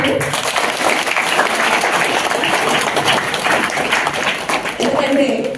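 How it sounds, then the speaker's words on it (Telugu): Applause rolls through a school gathering honouring students for record-breaking tenth-class exam results, a dense, steady wash of many hands clapping at close range for the whole stretch, with voices mixed underneath. "క్లాప్స్ అలా."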